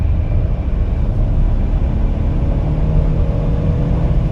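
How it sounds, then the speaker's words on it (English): A 2025 Ford F-150 pickup engine revs as the throttle is blipped from inside the cab, a steady loud low rumble throughout with no distinct separate peaks. "And just blipping the throttle, it downshifts."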